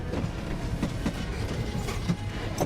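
A train carriage rattles along the rails with a steady rumbling roar and a regular clickety-clack of wheels over joints, close and continuous, with no voices.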